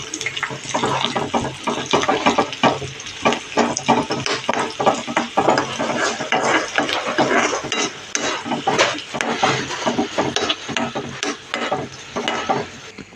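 Spices and turmeric being stirred into pachi pulusu, a raw tamarind stew, with a steady run of scraping, clinking stirring strokes at close range that continue without pause and with no talk.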